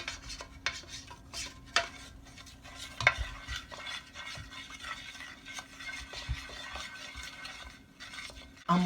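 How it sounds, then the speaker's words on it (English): A spoon stirring a mustard mixture in a bowl or pot while making broccoli-shrimp lasagna, soft scraping and occasional metallic clinks at an uneven rhythm, fairly faint and close. "I'm going to stir this really good"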